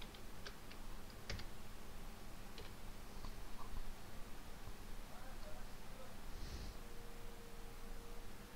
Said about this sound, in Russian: Вводим пароль